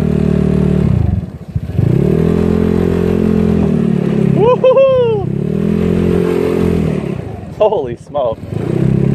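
A scooter with a freshly installed GY6 engine rides and accelerates, its engine drone rising and falling through several throttle pulls with some clattering, while a rider cheers and exclaims over it.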